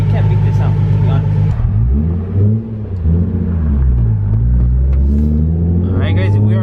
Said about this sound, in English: Starting with the exhaust, dude, look, just hear the idle, bro